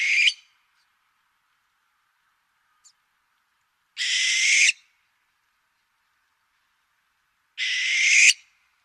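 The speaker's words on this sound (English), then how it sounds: "So our barn owls do not have the classic hooting noise of our great horned owls. These guys scream." Three harsh, hissing screams from a barn owl ring out alone against silence, each lasting under a second and spaced several seconds apart, with one tiny faint click between them.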